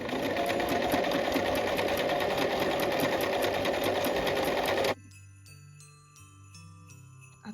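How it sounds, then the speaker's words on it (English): Sewing machine stitching a decorative stitch on personalized Christmas ornaments, a loud, steady, close whirring clatter for about five seconds that stops abruptly, followed by quieter faint clinks. "this is where I'm sewing for my decorative stitch"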